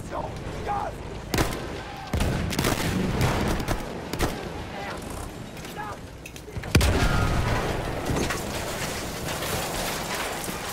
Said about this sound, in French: Une mitrailleuse hostile